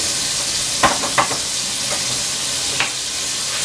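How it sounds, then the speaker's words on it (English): Vegetables seasoned with salt and pepper sizzle steadily in a pot, a loud continuous frying hiss broken by a few short scraping knocks as a spoon stirs them. No one speaks. "Just give that a little stir."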